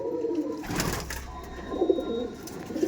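A breeding pair of Madras pigeons coos nearby, steady low burbling calls with a brief rustle or flap near the start, alone without talk.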